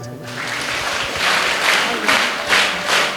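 Audience at a school investiture ceremony for a students council inauguration applauds, a dense, steady wash of many hands clapping that swells slightly in waves and carries on throughout.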